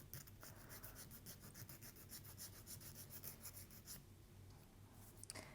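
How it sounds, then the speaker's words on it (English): Steady, faint rasping as a diamond file grinds excess overflow resin off the edge of a resin mold, the close scraping strokes running continuously before trailing off near the end. "to remove that you can just take a diamond file"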